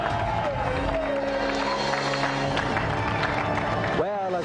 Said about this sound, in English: let's have another round of applause for Tom and Daniel.